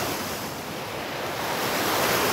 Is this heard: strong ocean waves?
yes